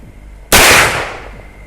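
A Marlin 1894 lever-action rifle in .44 Magnum fires a single loud, close shot at a target 20 metres away, and the blast rings out and decays over about a second.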